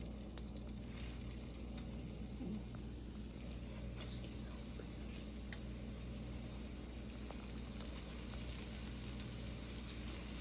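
Deer steak nuggets fry in hot oil with a faint, steady crackling sizzle that runs throughout, dotted with tiny pops.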